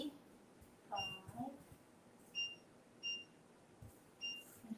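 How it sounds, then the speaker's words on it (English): Someone sets a kitchen timer at an oven, pressing buttons that give a string of short, faint electronic beeps at irregular intervals, alone in a quiet room. "I'm going to put the timer on for, let's see,"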